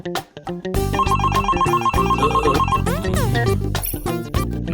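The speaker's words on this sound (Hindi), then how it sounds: "फिर फोन कैसे बज रहा है?" A mobile phone in a Hindi kids' cartoon rings loudly with a bright, repeating electronic ringtone melody that plays on and on, alone and up close.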